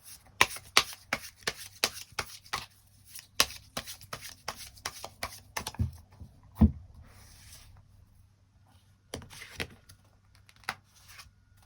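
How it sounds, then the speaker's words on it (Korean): Tarot cards are shuffled and drawn in a run of quick, crisp flicks and riffles, followed by a pause and then a few scattered taps and slides. The sound is close and soft, with no talking. "이 상대방 과거의 인연이 누구인가 그 부분 추가 카드 뽑아보도록 하겠습니다"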